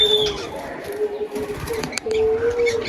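Pigeons coo softly in a garden aviary loft shared with budgerigars, with low murmuring coos and a few brief chirps running steadily throughout.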